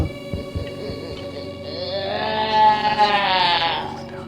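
A voice imitates a sheep's bleat, rising into a wavering, drawn-out bleat over the last two seconds, close and fairly loud, after a few soft knocks and low murmurs.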